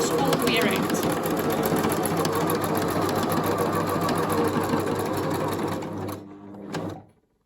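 A sewing machine stitches around a piece of fabric with a fast, even mechanical whirring that runs steadily, then slows and stops near the end.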